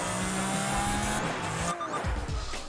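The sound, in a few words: car tires skidding in Project Gotham Racing 3, video game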